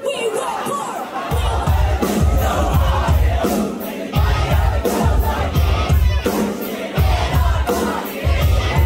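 A large concert crowd on tour chants in loud rhythmic bursts and cheers, the massed voices filling the space continuously with repeated pulses.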